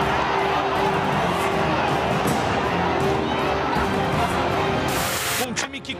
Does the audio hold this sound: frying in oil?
no